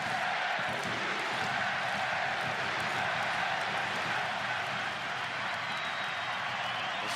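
A large stadium crowd in San Diego at a Gold Cup soccer match between the United States and Panama roars in a steady, dense wall of cheering and applause.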